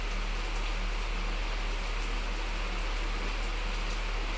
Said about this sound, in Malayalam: മഴയാണെങ്കിൽ നല്ല മഴയും.